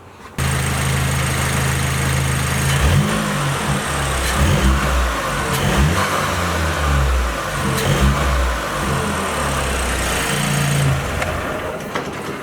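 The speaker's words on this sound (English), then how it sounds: "We'll go ahead, we'll start it, give you a couple revs" A car engine on its stock air intake cranks and catches, then settles into a steady rumble with several sharp revs rising and falling, loud and close with no talking.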